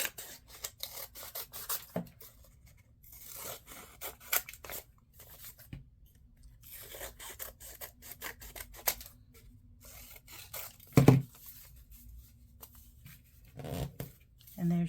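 Scissors snip around a small folded paper mini book in an origami craft, with scattered soft cuts, rustles and paper handling, faint and close, while a person talks throughout.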